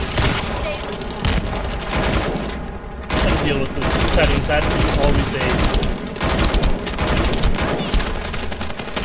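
Rapid overlapping gunfire from The First Descendant, a sci-fi shooter game, with dense bursts of automatic weapon fire and booms continuing almost nonstop, a brief lull midway, while someone talks over the shooting.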